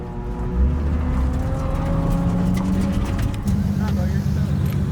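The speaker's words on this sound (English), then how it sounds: "Drifting is so much more fun with a handbrake." A Nissan 350Z drifting with a handbrake at a drift day, its engine droning loud and steady with rising and falling pitch throughout, heard close, with voices talking over it.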